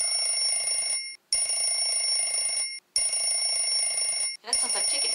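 A cartoon alarm clock from Blue's Clues rings in three long shrill bursts separated by brief gaps, loud and close, with a fourth burst starting as the clip ends.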